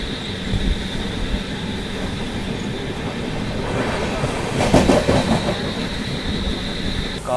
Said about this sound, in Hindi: अपनी अमृत भारत एक्सप्रेस ने जो है यहाँ पर एक्सेलरेट करना स्टार्ट कर दिया